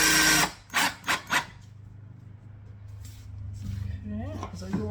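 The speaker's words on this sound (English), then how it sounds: "as I go along, I am still hammering." Wood floorboards being hammered into place with tight seams, a few sharp close knocks in quick succession at the start, then a low steady hum with faint softer taps and a voice speaking.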